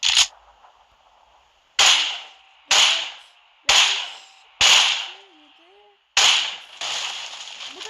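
Groza rifle shots hitting a car in a video game, six sharp cracking single shots spaced about a second apart, each trailing into a short metallic ring, with quiet gaps between.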